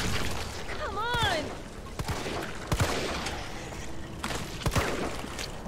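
Gunfire in Resident Evil 3 cracks out as several sharp, separate shots spaced a second or so apart, set against a steady game backdrop with a brief whooping creature cry early on.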